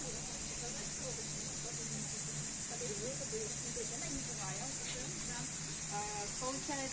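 Male insects in mating season fill a sanatorium park in Partenit on Crimea's southern coast with a loud, continuous high crackling drone, while a person talks over it.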